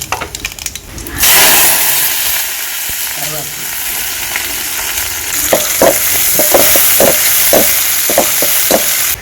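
Onions sizzle steadily in a hot pan until golden, a loud close crackle, with a spoon scraping and stirring in repeated knocks toward the end.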